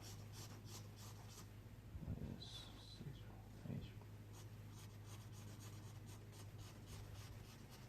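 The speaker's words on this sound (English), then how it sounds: "Simple line marks as I draw these in." A 2B pencil scratches light line marks on paper for a thumbnail sketch, soft close rubbing strokes in short bursts over a quiet room hum.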